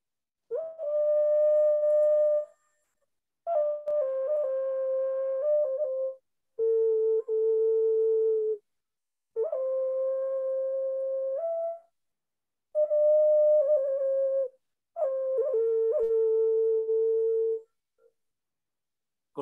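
Ocarina played in sustained, pure and deep tones, a series of six long held notes with small pitch slides and ornaments, separated by short gaps, clear and close with no voices.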